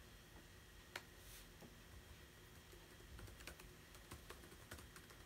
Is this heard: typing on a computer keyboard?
yes